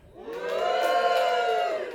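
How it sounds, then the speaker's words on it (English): Comedy club audience at a stand-up show cheering loudly for about two seconds, a swelling crowd roar with whoops that rises quickly, holds steady, then fades slightly at the end, with no talking over it. "Give me a cheer if you have kids."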